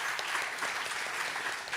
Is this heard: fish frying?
no